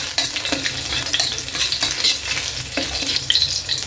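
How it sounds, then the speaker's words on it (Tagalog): Garlic sautéing in a pan for a Filipino ginisang bukaw-bukaw, a steady dense sizzle with stirring scrapes running throughout, close and fairly loud, with no talking. "Gisa tayo ng garlic."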